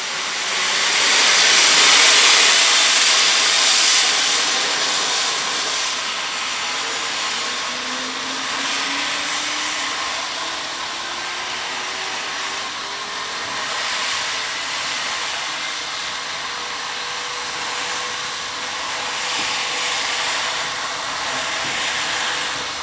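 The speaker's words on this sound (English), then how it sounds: "it was time to see locomotive 12A move out of the shed before departure for Emerald." Steam locomotive 12A easing out of its shed, a steady loud hiss of escaping steam with a rising whistle-like tone, continuous and fairly close throughout.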